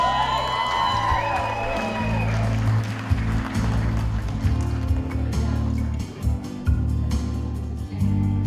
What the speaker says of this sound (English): please give them a nice big round of applause.